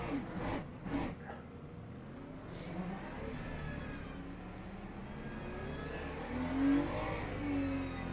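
Ferrari 296 GT3 race cars heading off on a rolling start at Le Mans, engines droning faintly and steadily from inside the car, with a few sharper thumps near the start and a rising whine later.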